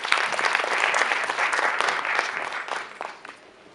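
An audience gives a speaker another round of applause at a township investment talk, a dense burst of many hands clapping close and loud, then gradually thinning and fading toward the end.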